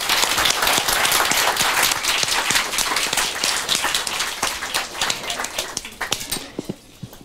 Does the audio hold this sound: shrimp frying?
no